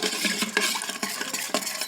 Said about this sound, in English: I'm just going to drop it in and give it a good mix